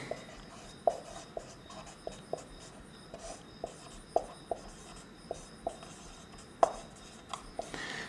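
Chalk or marker taps and scratches on a classroom board in a history lesson, a sparse series of short distinct strokes with quiet scraping between them, no talking.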